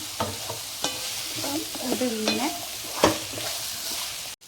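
Potato and onion being stirred together in a pan for a salad, with scraping spoon strokes and light clinks of utensil on metal repeating at an uneven pace over a faint sizzle, close and fairly loud.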